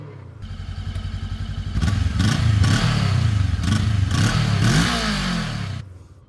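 A 2021 VOGE 500AC motorcycle with a 180-degree crankshaft engine pulls away, its rumbling exhaust rising through several revs and clattering gear changes before easing off, heard close up with no talk.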